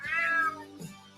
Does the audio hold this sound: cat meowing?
yes